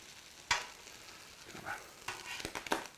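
Mushrooms fry in clarified butter on a Blackstone griddle with a faint, steady sizzle, broken by a few sharp spatula scrapes and taps, close by and quiet.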